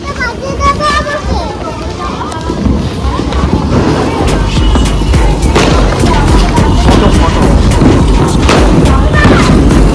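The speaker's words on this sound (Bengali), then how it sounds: "অনেক বাজি ফাটালাম, তোমরা দেখতে পেলে" Diwali fireworks go off outdoors as loud, rumbling booms and crackling bursts, with heavy wind buffeting on the microphone and a murmur of voices in the background.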